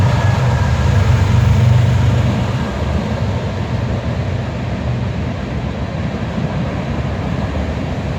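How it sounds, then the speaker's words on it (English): Loud, steady rumble of a train passing a cemetery in Glenwillard, a low continuous roar of rolling wheels that eases slightly after a few seconds. "Sorry for the train, everybody. It's gonna be loud."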